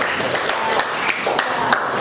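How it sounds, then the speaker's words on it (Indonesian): Audience clapping in a classroom after a student answers, a steady patter of many hands with a few sharper claps standing out, continuous for about two seconds. "Tepuk tangan untuk Ilham."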